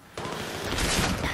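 A sharp, loud, rapid burst of F2000 assault rifle fire in the shooter game Battlefield 3 starts abruptly and continues through the moment.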